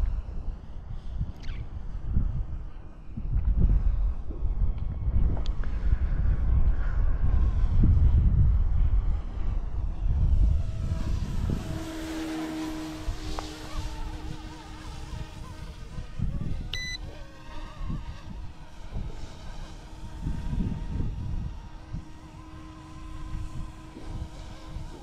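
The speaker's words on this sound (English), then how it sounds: "Nice little leisurely helicopter to fly around." UXIANG F09-S Jayhawk Coast Guard RC helicopter flying overhead, its steady electric rotor whine and buzz carrying throughout with wind buffeting the microphone, louder in the first half and settling to a more even hum.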